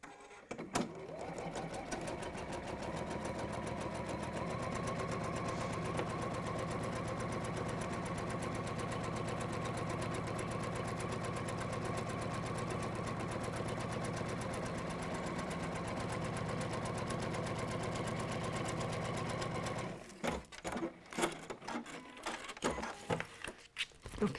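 A sewing machine runs a long line of stitching on a textile piece, humming and rattling steadily for nearly twenty seconds before stopping, followed by faint handling clicks.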